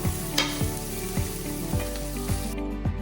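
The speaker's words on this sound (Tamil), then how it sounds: "தேங்காய் பூப்பில் மஞ்சள் தூள் போட்டிருந்ததை இதோட சேர்த்து விடுவோம் சேர்த்து மிக்ஸ் பண்ணுவோம்" Broad beans (avarakkai) fry with grated coconut and turmeric powder sizzling steadily in a pan, with several sharp scrapes of a spoon stirring through at regular intervals, close and loud, no talking.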